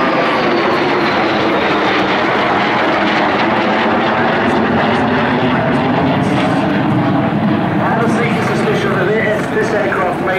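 A Royal Swedish Air Force double-delta canard jet, a historic aircraft with a very large engine, roars past loud and close at an air display in Jersey, a continuous heavy rumble that shifts as it passes, with a voice talking over it.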